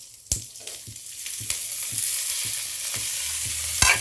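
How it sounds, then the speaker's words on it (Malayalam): Onion and tomato sautéing in a pan: a steady soft sizzle runs underneath while a spatula strikes and scrapes the pan in regular, close strokes, with no one speaking. "സവാളയും തക്കാളിയും ചേർത്ത് കൊടുക്കാം നന്നായിട്ടൊന്ന് പച്ചമണം മാറുന്ന വരെ മാത്രം ഒന്ന് വഴറ്റി കൊടുക്കാം"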